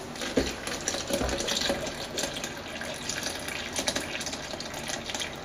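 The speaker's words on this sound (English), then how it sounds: "So I'm adding cold water." Cold water is poured into cream while making ghee, giving a continuous, moderately loud splashing gush for several seconds with no talking.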